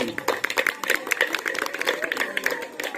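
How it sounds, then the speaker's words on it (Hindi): A crowd at a community award ceremony held by a social welfare committee honoring artists breaks into brisk applause, many hands clapping in a quick, uneven patter for a few seconds, with a voice faintly underneath. "आलोक बाबा तांत्रिक समाज सेवी और हमारे बरदानी समोसे वालों के लिए जोरदार ताली होनी चाहिए"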